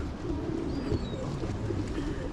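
Pigeons cooing on a street in historic Norwich, low soft repeated coos close by over a constant outdoor city background hum, with no talk.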